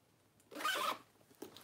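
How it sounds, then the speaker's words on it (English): A single quick pull on a purse's zipper top rasps close by, lasting about half a second in a quiet room, followed by a faint click. "So the zipper works great"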